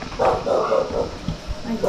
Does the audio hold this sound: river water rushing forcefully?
no